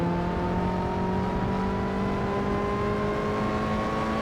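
A race car engine in the game Assetto Corsa holds a steady, loud drone while its pitch slowly climbs under throttle. It sounds continuous and close, with no voices.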